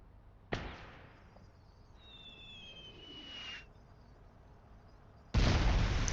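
Nebelwerfer rocket artillery in Call to Arms: Gates of Hell lets off a sudden sharp launch blast, then a rising whistling whine as rockets fly, and later a loud burst of explosions.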